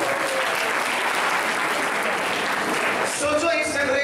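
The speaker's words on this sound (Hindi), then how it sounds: "एक बार आप सबके लिए वापस जोरदार तालियां होनी चाहिए" An audience at a guidance talk for science and commerce students gives loud, sustained applause, a dense wash of clapping that runs throughout, with a voice coming in near the end.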